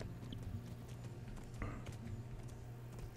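Horse hooves clip-clop at a steady pace in the medieval game Kingdom Come, soft and somewhat distant beneath a low ambient rumble.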